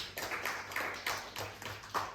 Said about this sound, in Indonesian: Tepuk tangan dulu untuk kelompok deteksi.